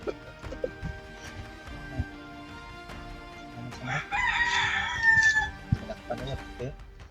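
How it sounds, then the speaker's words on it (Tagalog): Roosters and chickens in a rural yard, with one rooster crowing loudly in the middle amid scattered clucks, knocks and people talking nearby. "May mga manok pa dito."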